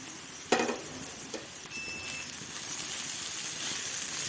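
Onions and chilies fry in a pan, a quiet steady sizzle with a sharp clatter as something drops in near the start, then a soft continuous hiss.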